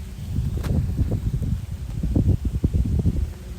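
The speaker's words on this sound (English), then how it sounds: "oh, a nice little breeze coming through." Soft, steady rustling of leaves stirred by a gentle breeze outdoors, a continuous low wash of sound with faint wind noise.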